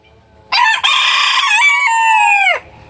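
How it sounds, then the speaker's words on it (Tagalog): A single loud rooster crow, close by, rising then holding and trailing off over about two seconds, with near silence before and after. "at ito na rin yung aking alagang manok"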